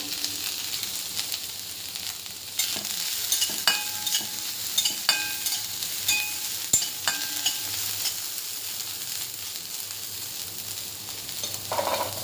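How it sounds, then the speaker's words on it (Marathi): Garlic, ginger and mixed vegetables sautéing in half a spoon of ghee for a vegetable soup, a steady broadband sizzle with a spatula scraping and stirring in irregular strokes, close and alone. "लसूण टाकूया, आलं आणि ह्या ज्या सर्व भाज्या आहे ह्या आपण छान एकत्र करून परतून घ्यायच्या आहे चांगल्या"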